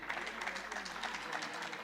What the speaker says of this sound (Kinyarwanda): Amashyi cyane kuri MTN.